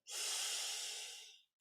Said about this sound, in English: Take a deep inhale to chant.